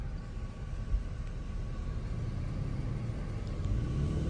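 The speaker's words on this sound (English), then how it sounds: "I just started my car." A just-started BMW M340i idling, a steady low engine rumble and drone held close and even throughout, with no revving and no voices.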